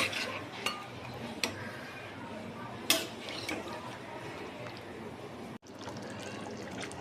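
Half a bowl of water poured into mutton curry in a pot, with clinks of utensils against the pan and a soft trickle, close and moderately quiet, a voice talking over it.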